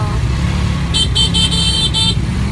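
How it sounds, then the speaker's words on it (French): City traffic in Phnom Penh rumbles along steadily as a car horn sounds a quick run of about five loud toots in the middle, with engine noise from cars and motorcycles going on underneath. "La circulation de Phnom Penh."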